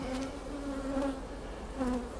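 Honey bees buzzing at an open hive late in the honey flow, a soft, close, continuous droning hum with slight rises and falls in pitch, no voices.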